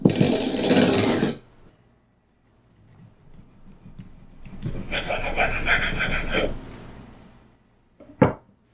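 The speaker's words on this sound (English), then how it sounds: "You can also sharpen a serrated knife by putting the knife in like this and pulling it towards the serrations" A serrated knife is pulled through an X1 Pro knife sharpener, producing close, harsh rasping scrapes: a short burst, then a longer grinding pull, and a brief sharp final stroke.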